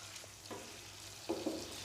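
Chicken tikka pieces fry on a tawa with ghee while the masala cooks onto them: a faint, soft sizzle with a few brief spatters and scrapes, close and quiet, without speech.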